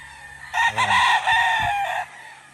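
Gamefowl roosters on a game farm crow loudly and close by, two or three overlapping calls over about a second and a half, with faint background sound beneath.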